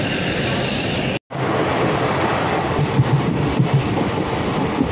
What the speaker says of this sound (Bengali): বানিহালে ট্রেন ঢুকে গেছে